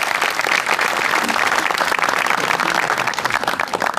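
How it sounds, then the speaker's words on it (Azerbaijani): A studio audience at a comedy show breaks into loud, sustained applause, dense clapping that holds steady for several seconds before thinning slightly near the end. "Alqışlarınız var."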